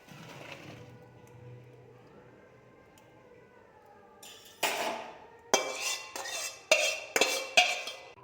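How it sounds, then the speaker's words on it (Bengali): Boiled chowmein noodles being drained through a metal strainer in a home kitchen: a quiet start, then a series of sharp metallic clanks and clinks of pot and strainer, close and irregular, with splashy bursts between them. "চাউমিনটা সিদ্ধ হয়ে গেছে এবার আমি নামিয়ে ছেঁকে নেবো"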